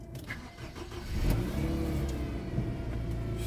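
A car engine cranks and catches on a cold morning, then settles into a steady, fairly close idle with a slight rise in revs as it comes to life; no voices over it.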